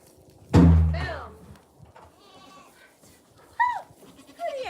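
Goats bleat in a barn during milking chores. One loud, close bleat comes first, then a few fainter wavering calls follow, with thumps and rustling from the barn in the background.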